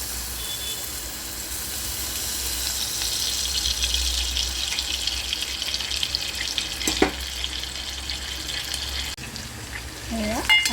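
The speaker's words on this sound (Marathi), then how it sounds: "हे लसूण भाजत आहे" Garlic frying in a little oil in a pan while cooking a mung dal curry gives a steady, soft sizzle throughout, with occasional clinks and stirring and a voice talking over it.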